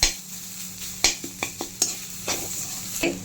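Onion with ginger garlic paste sautéing in a pan for pepper chicken gravy, close spatula scrapes and taps in an irregular rhythm over a soft continuous sizzle.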